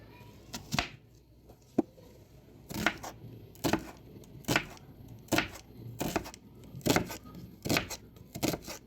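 A large onion is chopped with a knife. About a dozen sharp, distinct knife strikes land at a steady, unhurried pace, close and crisp against a quiet background.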